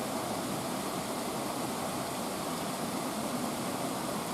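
Water of the River Cuckmere flowing past an old, long-unturned preserved wheel at Hellingly, heard as a steady, broadband rushing wash with no breaks and no voices.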